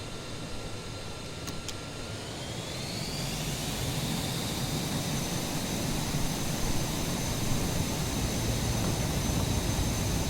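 A MiG-15bis jet engine in Microsoft Flight Simulator spools up for takeoff, a steady roar with a rising whine that settles into a sustained high-pitched tone, loud and continuous, with no voices.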